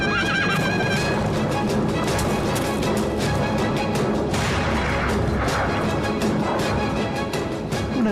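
Horses neigh and whinny repeatedly over busy clip-clopping hooves in a battle scene, loud and close, with crashes and distant gunfire or artillery blasts mixed in.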